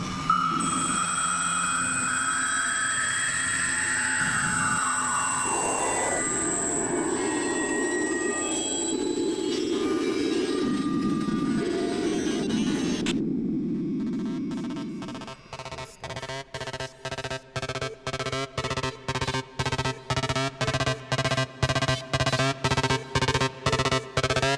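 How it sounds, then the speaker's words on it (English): Dense, harsh electronic textures with gliding tones and screeching layers give way to a loud, rhythmic train of sharp stuttering pulses, all synthetic and dissonant, no voices. "So I've got these crazy dissonant sounds like this."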